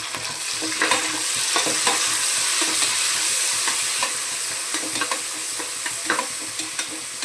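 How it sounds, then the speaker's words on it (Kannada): Onions and a handful of mint fry in a pan with a loud, steady sizzle, close up. Occasional scrapes and taps from stirring run through it, and no one speaks. "ಈರುಳ್ಳಿ ಚೆನ್ನಾಗಿ ಫ್ರೈ ಆಗಲಿ. ಈರುಳ್ಳಿ ಫ್ರೈ ಆಗಿದೆ. ಈಗ ಪುದೀನ ಹಾಕೊಳ್ಳೋಣ."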